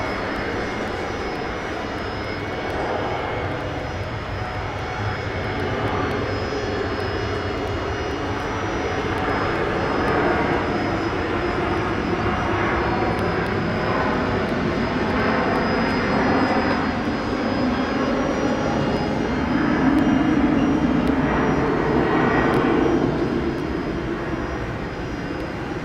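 Boeing 747 of Cathay Pacific at Brisbane International Airport, its engines giving a steady, loud roar that swells gradually toward the end, with no voices over it.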